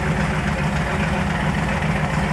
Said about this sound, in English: I think I've got a bit of an exhaust leak on this side